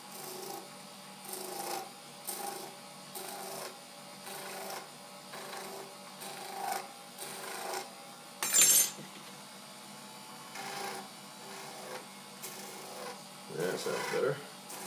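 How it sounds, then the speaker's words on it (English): A cylinder shaver bevels the end of a wax dictation cylinder, making a repeated rhythmic scraping that rises and falls in regular passes, with a sharp brief burst midway and a rougher rub near the end. "Slow down the shaver a bit and just put a nice bevel on the end of this cylinder."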